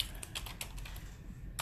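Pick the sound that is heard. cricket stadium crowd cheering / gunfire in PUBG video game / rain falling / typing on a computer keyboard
typing on a computer keyboard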